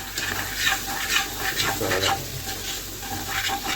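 Okra and carrot curry with tomato masala paste is stirred in a pan over low to medium flame, giving repeated scraping strokes over a continuous sizzle, close and moderately loud, with no talking.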